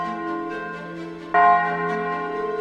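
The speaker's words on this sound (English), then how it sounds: "Very soon the joyous church bells announced the marriage feast." Church bells ring with bright, sustained tolling, one fresh strike landing midway and its tones ringing on afterward, with no voices.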